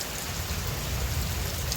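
Torrential rain falls in the night, a loud continuous rush of drops hammering surfaces amid a lightning storm. The sound stays constant throughout and no one speaks.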